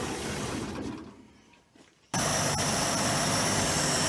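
Hemi engine of an abandoned Australian Mopar VG roars loudly, dips to near quiet for about a second, then bursts back to a dense, full throttle roar up close.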